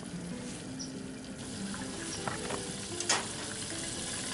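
Chicken pieces fry in oil inside a fryer under a heavy lid, a steady, moderately faint bubbling sizzle with a few small clicks and pops along the way.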